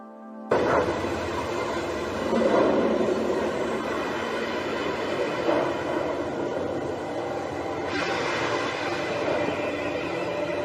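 A heavy, steady rumble and grinding of a train slowing, loud and continuous after a sudden start, with no voices.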